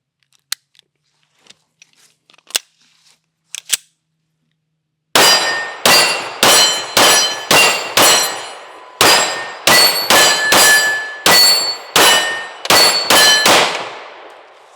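Outdoors, 9mm rounds from a Springfield Armory XD Mod 3 OSP pistol ring off a distant steel target in a quick string of sharp clangs, after a few scattered quiet knocks and pings at the start.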